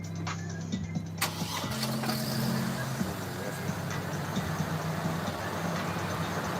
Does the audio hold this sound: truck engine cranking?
yes